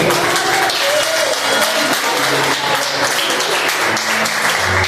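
Steady applause from a church congregation fills the room, a dense wash of clapping that holds at an even, loud level throughout.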